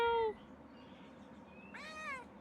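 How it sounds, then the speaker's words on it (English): A cat meows twice in the video game Pentiment, a drawn-out clear meow, a pause, then a second rising meow, loud and close with no talking. "Very vocal cat."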